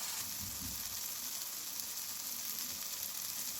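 Spring onion egg curry frying in a pan, a steady, even sizzle with a constant hiss throughout, fairly quiet and close, with no voices.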